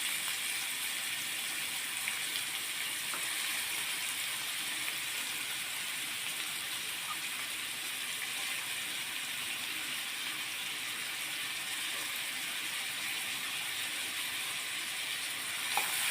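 Chopped onions and shallots frying in a pan while fish roe is being prepared, a continuous, even sizzle and hiss that holds steady throughout without pause.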